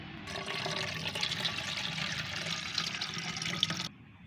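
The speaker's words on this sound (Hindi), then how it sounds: "घोलने के बाद इसे हमें स्प्रे पंप में भर लेना है।" Water mixed with a half spoon of Epsom salt pours steadily into a garden spray pump for treating plants, a continuous splashing gush lasting several seconds before stopping abruptly.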